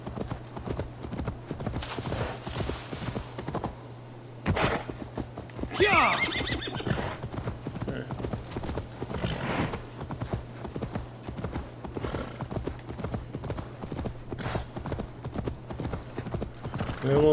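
Rapid hoofbeats clatter in a steady galloping rhythm in the video game Assassin's Creed Valhalla, with a horse neighing partway through and a voice speaking over it.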